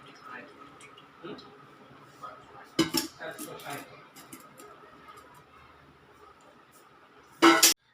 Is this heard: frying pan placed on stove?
yes